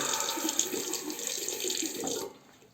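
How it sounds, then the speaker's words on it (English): A double-edge safety razor rinsed under a running tap into a sink, a steady splashing water stream close by that stops abruptly near the end, with no talk. "the rinsing is of course a little bit better with open combs"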